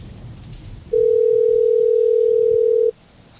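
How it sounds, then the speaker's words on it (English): A telephone dial tone follows a failed phone call: a single loud, steady pure tone sounds for about two seconds, then cuts off abruptly, over a faint low background hum. "Failed phone call."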